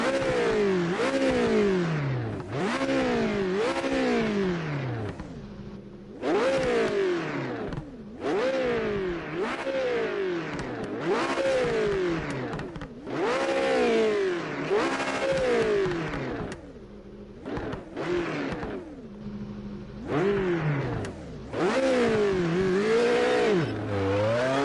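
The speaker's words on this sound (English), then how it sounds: "Now it's a big V8 engine." A Toyota Supra GT500 racing car with a V8 engine, heard in a racing video game, revs loudly and repeatedly in rising and falling sweeps with short pauses between bursts.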